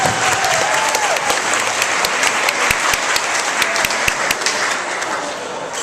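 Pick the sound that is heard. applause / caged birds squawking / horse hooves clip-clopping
applause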